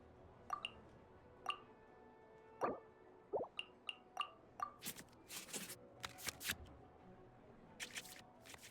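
Card shuffling and draw sounds in the Genshin Impact TCG card game: a series of sharp, quiet clicks spaced apart, then quick bursts of rustling flicks, with no talk.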